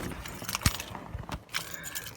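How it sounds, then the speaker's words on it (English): A bunch of keys for a 1996 Rolls-Royce Silver Spur jangles in a hand, several quiet bright metallic clinks scattered over two seconds, close and faint. "All right, we got a bunch of keys for this"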